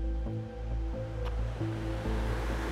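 Water rushing down a dam spillway at night: a steady, broadband roar of falling water heard from a bridge above, with faint tonal pulses running through it and no speech.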